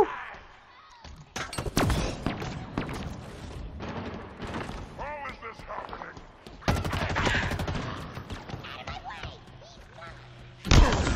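Gunfire in Halo Infinite comes in loud, dense bursts and rattling volleys with mechanical clanks between them, mixed with a voice speaking.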